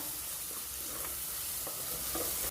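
Garlic and green chili paste frying in a pan, a steady soft sizzle with faint scraping stirs, close and alone.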